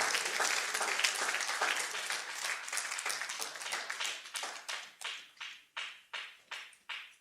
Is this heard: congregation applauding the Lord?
yes